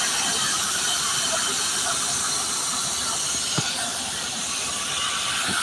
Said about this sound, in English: That's him letting pressure out of the air brakes.